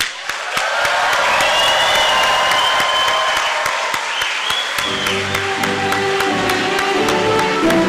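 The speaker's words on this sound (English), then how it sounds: "Let's give them a very loud," A large audience at a medical school commencement in a Lincoln Center theater applauds loudly and continuously, with whoops and cheers rising over the clapping and sustained musical tones entering partway through.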